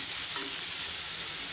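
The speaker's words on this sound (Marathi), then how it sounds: "कांदा छान आपल्याला लालसर होईपर्यंत परतून घ्यायचा आहे।" Onion sautés in a pan for masala dosa filling, a dense, even sizzle that stays loud and close throughout, with no voices.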